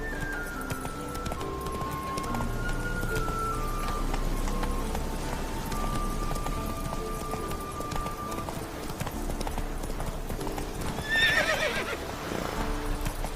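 Roach, a horse in the video game The Witcher 3, gives steady clip-clopping hooves at a run, and a whinny breaks out near the end over a constant game backdrop.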